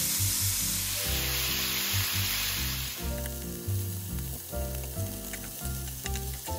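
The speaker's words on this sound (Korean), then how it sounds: "노릇노릇하게 다 익혀주세요." Sliced pork belly fries in a pan until golden, giving a continuous crackling sizzle with rhythmic clatter or stirring knocks underneath, moderately close and steady.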